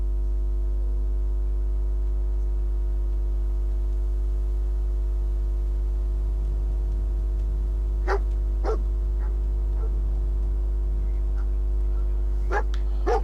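Stray dogs barking in Fallout 4, several sharp yaps in separate bursts heard over a loud, constant low hum and steady game ambience.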